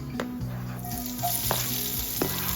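Onion sizzles in a hot pan for bombil (Bombay duck) bhaji, a close continuous frying crackle broken by a few stirring scrapes, with no talk.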